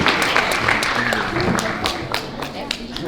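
A crowd at a family festival applauds together, a dense patter of many hands clapping fairly close and steady for a few seconds, with voices mixed in.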